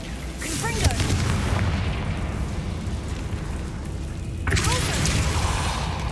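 Fire spell blasts cast in the video game Hogwarts Legacy, two bursting booms about three and a half seconds apart, each with a sharp crackling onset over a steady rumbling game soundscape.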